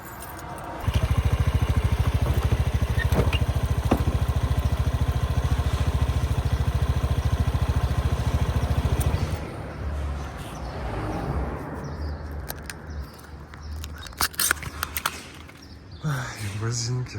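A Honda Vision 110 scooter engine hums steadily at idle during a rear brake test, then cuts out, leaving quieter handling noises and a few sharp clicks.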